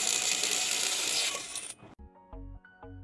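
A cheap cordless impact driver works on a car wheel lug nut: a loud, dense burst of rapid hammering for about two seconds, then it stops and a few sharp metallic clicks and clinks follow.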